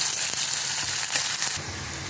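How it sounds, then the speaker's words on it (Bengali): Chopped onions and peanuts sizzling in hot oil, with a dense, loud close crackle and light scraping strokes of a stirring utensil, changing slightly in tone partway through; no one speaks. "দিয়ে ভালো করে নেড়ে চেড়ে পেঁয়াজটা লাল লাল করে ভেজে নেব"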